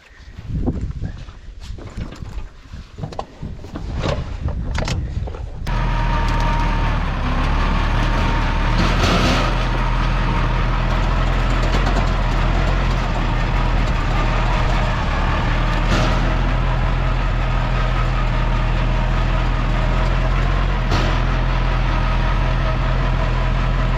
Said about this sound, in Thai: เดี๋ยวผมพาขับรถไถเลยครับ